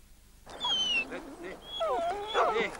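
A Basset dog whines and yelps in high, wavering cries, close by, with short bark-like yips toward the end, in a 1996 French TV advert.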